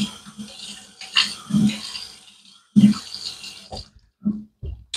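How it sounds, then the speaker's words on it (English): Water splashes in short bursts close by as a face is wetted with the hands before shaving, several uneven splashes with a faint faucet wash underneath and no talk. "Let me wet the face and we'll build up the rest on the face"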